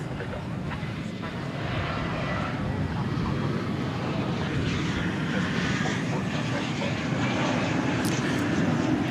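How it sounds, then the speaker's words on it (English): Kalitta Air Boeing 747-400 jet at DFW Airport, a steady broadband engine roar that holds for the full stretch at moderate distance with a low rumble beneath, while a voice talks faintly under it. "This again is Calita Air Flight 816 to Anchorage. It's a 747-400."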